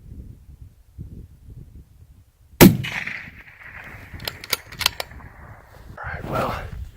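A single sharp rifle shot cracks close by during a Montana deer hunt. Hushed voices murmur before it, and a rumbling echo and quiet talk follow.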